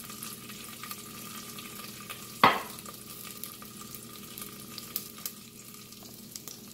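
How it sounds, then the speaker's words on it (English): Slit green and red chilies sizzle steadily in hot oil for okra pulusu, with one sharp splash-crackle as they drop in and a soft continuous frying hiss afterward. "I'll just split them into half and drop them in the oil."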